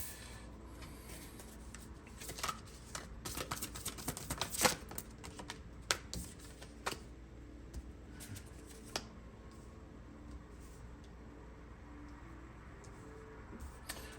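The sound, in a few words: shuffling tarot cards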